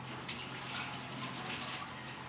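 Steady stream of running tap water gushing as boiled eggs are cracked and peeled beneath it, a constant, fairly quiet wash of sound with no talking.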